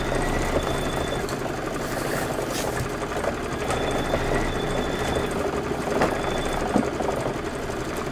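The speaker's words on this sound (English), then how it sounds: "Let it do the quilting stitches" A sewing machine runs quilting stitches on a Kimberbell table topper project, giving a steady, unbroken mechanical whir with a dense motor hum that holds at an even level throughout, with no talking.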